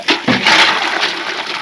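Water gushes hard and steadily from a village tap into buckets, a loud close rushing splash that runs without pause for a moment.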